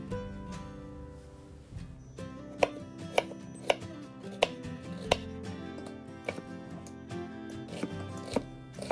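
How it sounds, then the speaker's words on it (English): A knife taps rapidly on a cutting board as half an onion is diced into small cubes, giving sharp, evenly spaced chops up close over a soft background hum. "Make sure to chop the onion into pretty small cubes"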